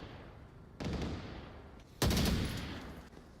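Two loud close bursts of automatic gunfire in the Onward VR shooter as a player pre-fires into smoke, the second burst heavier, each trailing off into a low rumble.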